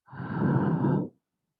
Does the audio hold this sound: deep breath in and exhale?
yes